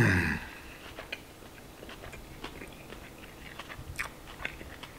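A bite of Chinese chicken fried rice with bean sprouts being chewed up close, a string of soft, irregular crunchy clicks and smacks after a brief louder sound at the start.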